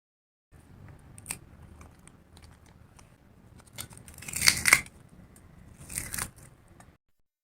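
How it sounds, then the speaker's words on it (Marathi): Crisp, brittle snapping and crunching of crispy sesame brittle, a few sharp cracks building to a louder burst of crackly breaking, close and with no talking. "आवाजावरूनच तुम्हाला समजलं असेल की ती कुरकुरीत तिळपापडी तयार झाली"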